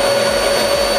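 A Vax Power Revive bagless cylinder vacuum cleaner runs after being switched on, giving a loud, close, steady motor whine and airflow roar that holds for about a second.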